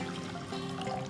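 Water poured from a cup into a bowl of muffin batter with an egg already added, a steady close splashing trickle lasting about a second.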